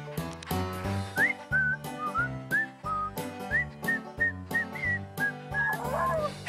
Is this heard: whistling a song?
yes